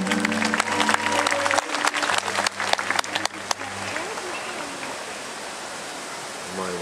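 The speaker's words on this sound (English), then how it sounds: "applause." Audience applause at a Hilton Waikiki Aloha Friday event, loud crowd clapping mixed with music for the first few seconds, then thinning into scattered claps and fading into a soft wash of clapping.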